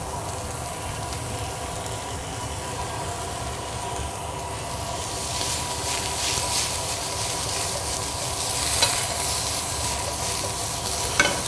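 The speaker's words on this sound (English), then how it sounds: "we have a nice saute of vegetables here." Blanched fiddlehead ferns and vegetables saute in butter in a pan, a continuous crackling sizzle that grows louder midway, with occasional utensil knocks, close and without voices.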